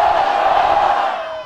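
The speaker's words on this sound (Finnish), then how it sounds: "Ja sitten kaikki huutaa, kuka voitti?" A festival crowd on a town market square in Kouvola roars together in one sustained, loud shout that fades slightly toward the end.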